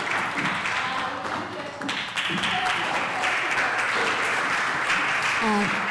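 An audience at a 2024 festival session keeps up continuous, fairly loud clapping while voices and cheering carry through it.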